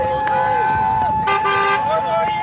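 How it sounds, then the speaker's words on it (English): Car horns honk from vehicles driving past a roadside protest crowd near the Capitol, sustained tonal toots layered over a busy street and voices, with overlapping honks and a loud blast in the middle. "People are driving by, honking"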